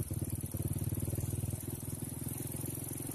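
A carbureted step-through scooter idles close by while its carburetor air screw is being adjusted, a quiet, even putter of rapid regular pulses that holds steady throughout with no talking.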